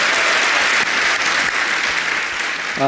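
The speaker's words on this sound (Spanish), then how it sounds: "Dale un fuerte aplauso a Dios esta mañana" A church congregation gives God a loud round of applause during a morning service. Strong, dense clapping fills nearly three seconds without a break, alone and close.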